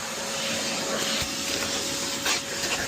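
A vacuum cleaner hoovering the interior of a Tesla car runs with a steady close whine and hiss, rattling faintly as debris is sucked up, with no voices.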